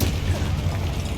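A Confringo blasting spell detonates in Hogwarts Legacy, a short, loud, low boom with a rumbling burst that fills the moment on its own, with no talk over it.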